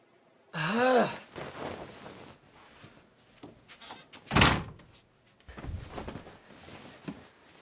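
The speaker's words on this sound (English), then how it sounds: "Hey, close the door!" A door is shut once, giving a short loud thud partway through, with gasps and vocal sounds around it and quieter room noise before and after.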